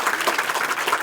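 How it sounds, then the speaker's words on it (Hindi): Brief, vigorous applause for teachers at a school event honouring UP Board exam results, a dense burst of many hands clapping that lasts about a second. "इनके लिए जोरदार तालियां"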